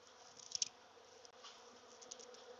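Bees hum in a faint, steady drone while a hive is opened and inspected in autumn, with a few brief sharper buzzes near the start.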